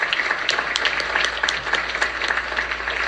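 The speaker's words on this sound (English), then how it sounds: "please join me in a round of applause for all of our distinguished speakers" Audience applause for the distinguished speakers at a United Nations event on fossil fuels and energy, a steady dense patter of many hands clapping at once that keeps an even level for a few seconds with no talk.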